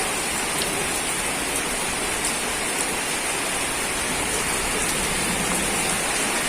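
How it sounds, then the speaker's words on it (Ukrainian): Heavy rain pours down steadily in a garden in Kyiv Oblast in June, a dense continuous hiss of drops with no voices. "А ось така злива вперше в цьому році."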